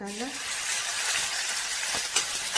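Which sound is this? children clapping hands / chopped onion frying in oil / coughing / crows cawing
chopped onion frying in oil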